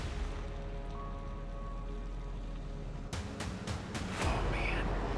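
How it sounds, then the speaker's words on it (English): Hail drums on the roof of an RV on a road toward Alaska: a steady dense patter of ice pellets, with a burst of sharper, louder impacts partway through as the fall intensifies. "We're getting hail. It's hailing."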